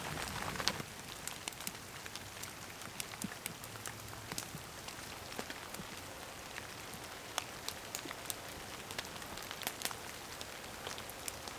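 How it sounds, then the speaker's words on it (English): Steady rain patters on a tarp shelter at a winter camp with melting snow, a dense even hiss broken by sharp scattered drip taps, close and continuous with no voices. "And it's raining and almost all the snow's melted already."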